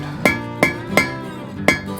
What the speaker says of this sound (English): line it up with my hot cut tool, and gently hammer as I rotate it around